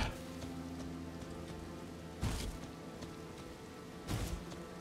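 Rain falling in the video game Elden Ring, a soft, steady patter with low hum beneath, broken by two brief louder rumbling swells partway through.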